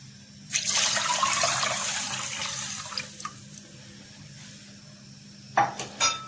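About a litre of water from a bowl poured into a cooking pot for Punjabi dal; a steady splashing pour lasting several seconds, then a couple of metallic clinks of the pot and bowl nearby.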